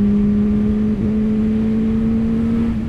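2015 Honda CBR 600 RR motorcycle engine holding high revs while riding, a loud steady tonal whine that dips briefly as if shifting gear, then holds again, close and continuous.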